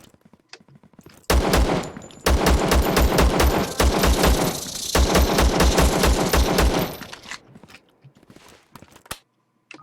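Semi-automatic rifle fire in the video game Zero Sievert, loud rapid regular shots in two long strings with a short break, then a few scattered clicks and a last single report.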